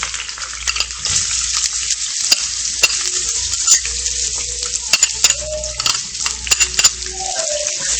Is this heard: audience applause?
no